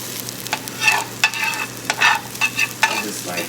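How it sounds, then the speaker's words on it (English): Potato skins frying in a pan while a spatula scrapes underneath and flips them, giving a steady close sizzle broken by several sharp scraping and clattering bursts spread irregularly across the span. "you want this spatula and like try to get under them and flip them"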